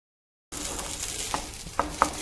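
Grated coconut fries in a pan as its water cooks off and it begins releasing oil, giving a steady soft sizzle with a few light metallic taps of a stirring utensil near the end.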